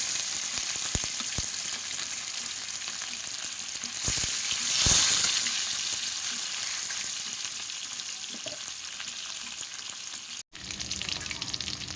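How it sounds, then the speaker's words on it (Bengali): Pieces of bhetki fish fry in hot oil in a pan, a continuous crackling sizzle close by with scattered clicks and a louder surge of spitting midway before a brief cut. "তেল গরম হয়ে গেছে মাছগুলো ভেজে নেব"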